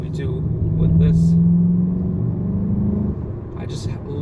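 A 2019 VW Jetta GLI 35th Anniversary Edition with a 7-speed DSG, in sport mode, gives a deep, loud engine drone that rises briefly and then settles, heard from inside the car with a voice talking over it.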